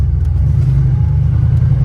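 A boosted Foxbody Mustang, running 15 pounds of boost on a stock bottom end, accelerates with a loud, close, deep engine rumble that holds steady with no voices over it.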